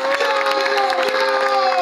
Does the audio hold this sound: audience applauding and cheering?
yes